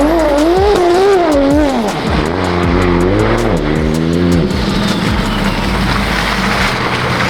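Tuned 900 HP BMW M4 revving loudly in the snow, engine pitch rising and falling through several close, aggressive revs before settling into a roaring drone with wind-like noise, no talking.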